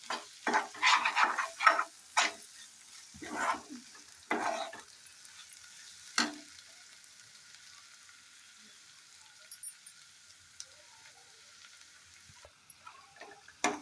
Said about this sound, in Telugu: ఇలా కలిదిప్పుకోవాలని చెప్పాను కదా మధ్య మధ్యలో ఇలా కలిదిప్పుకోవాలి